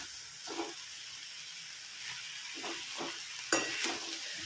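Vegetables being stirred in a hot pan, with a steady frying sizzle and a few scraping stirs of the spoon, close and alone without talk.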